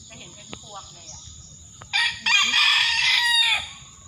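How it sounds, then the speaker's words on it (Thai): A rooster crows once at moderate distance outside a temple in Thailand, a long strained call over a quiet background with faint clucks and bird chirps before it. "ข้างบนมีไก่อยู่ข้างบนเป็นไก่ข้างบน"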